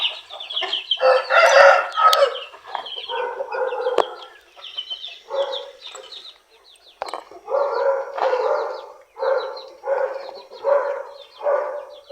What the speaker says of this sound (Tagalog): Ano ito? Manok ko.